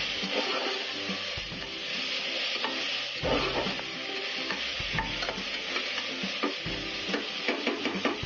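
Mint leaves sauté in a hot pan for coconut milk rice, giving a constant crackling sizzle broken by frequent scraping and clattering from vigorous stirring.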